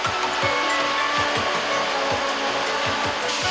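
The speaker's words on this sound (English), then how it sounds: "A scalper and grading machine separates assorted debris from the seeds." A scalper and grading machine cleans debris from tree seeds in a processing plant, a loud steady mechanical whir with a regular rhythmic thump repeating about every third of a second.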